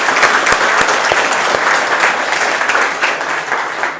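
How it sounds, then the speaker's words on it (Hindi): Audience at a meet-and-greet event in Jaipur clapping loudly and continuously, a dense steady applause from a large crowd, with no speech over it. "तो उन सब के लिए इस बार तालियां बजा दीजिए"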